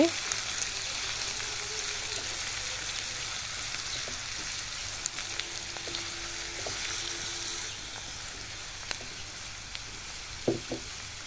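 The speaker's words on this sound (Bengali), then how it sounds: "এই তেলের মধ্যে দিয়ে দিচ্ছি 1 কাপ পেঁয়াজ কুচি। পেঁয়াজটাকে একটু নেড়ে চেড়ে নিচ্ছি।" Chopped onion frying in hot oil in a pan used for tehari, giving a continuous steady sizzle with occasional spoon scrapes and taps as it is stirred, close and even throughout.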